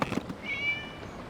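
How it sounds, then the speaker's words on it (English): A cat in the video game Genshin Impact gives a single short, clear meow after a few soft clicks. The meow is close and alone. "It was just a cat."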